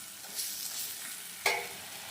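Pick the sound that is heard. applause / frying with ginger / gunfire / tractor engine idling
frying with ginger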